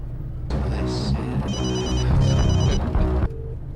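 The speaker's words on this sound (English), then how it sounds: "You've reached the voicemail of Subhans. Please leave a message." A telephone rings twice in a sitcom scene just before a call goes to voicemail, a clear electronic ring with a short gap between the rings and no talk.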